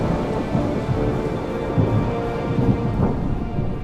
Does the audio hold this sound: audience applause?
no